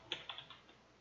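A computer keyboard is typed on in about five quick, light keystrokes in a short burst, faint and close, then trailing into quiet.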